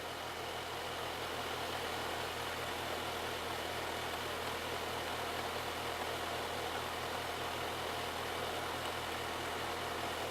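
A car engine idles steadily during PID controller calibration, a low rhythmic thrum with a continuous mechanical hum running unchanged for ten seconds, moderately close and with no talking.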